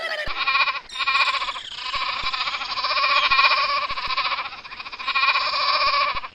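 Goats bleat loudly and repeatedly up close in a farm setting, the cries overlapping in long wavering calls with brief pauses between them.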